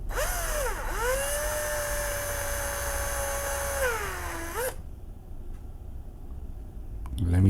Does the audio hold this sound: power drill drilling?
yes